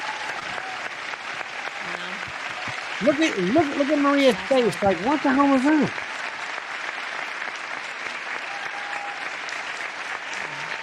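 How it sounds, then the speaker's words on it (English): Audience applause rolls on as a steady crowd clatter at a politician's McDonald's appearance, with talking heard over it. "The clapping says it's over."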